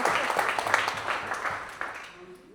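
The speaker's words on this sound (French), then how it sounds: "Ça s'applaudit, ça s'applaudit." An audience at a business talk claps in brief applause that fades out toward the end, with some voices under it.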